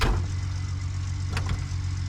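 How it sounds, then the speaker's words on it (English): Truck engine idling in Gold Rush The Game, a steady low droning rumble with a faint brief click partway through, close and constant without talk. "Ah, forgot to turn the engine off."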